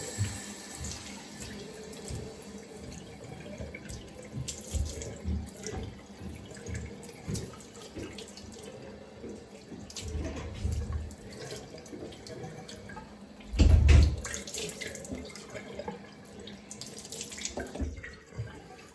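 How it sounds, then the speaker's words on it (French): Tap water running into a sink while someone splashes it onto their face, a continuous close wash with uneven splashes and one louder burst near the end. "on va passer de l'eau sur notre visage, bien évidemment"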